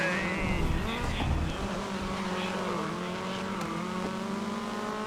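A front-wheel-drive race car in the GRID 2019 racing game, driving on a wet track with a sustained droning engine note that shifts pitch. Faint tire noise, and the engine is loud and continuous throughout.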